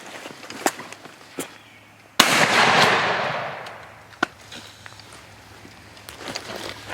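A single sharp gunshot cracks out during a Pennsylvania turkey hunt and rolls into a long fading echo outdoors, with scattered faint clicks and rustles before and after.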